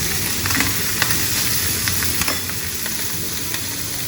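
Beef sizzles and spits in hot fat inside a beyran pot, a loud, dense, continuous frying hiss with scattered crackling pops, close by and without talk.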